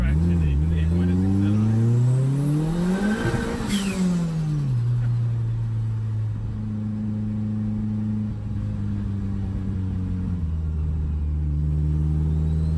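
A car accelerates hard with its engine revving, the pitch climbing, then falling and climbing again as the tires break traction. The engine runs loud and close throughout, heard from inside the car.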